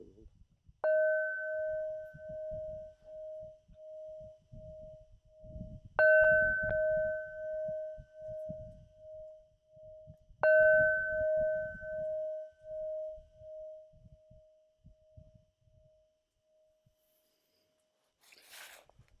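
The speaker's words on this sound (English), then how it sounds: "Let's have the bell." A bell struck three times, each strike ringing clear and sustained, its tone decaying slowly over several seconds before the next, with faint low rustling underneath.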